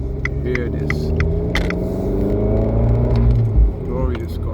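An Abarth 595C Turismo convertible with MTA gearbox and Record Monza exhaust drives with the roof open, its engine a steady close rumble with a brief louder burst near the end, while a voice talks over it.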